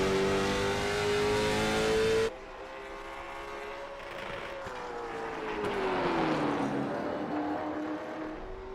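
Onboard engine of Josh Parrish's race car qualifying at Martinsville, a loud sustained drone that holds steady, drops sharply in pitch as the car lifts off, then slides lower and climbs again, with no talk over it.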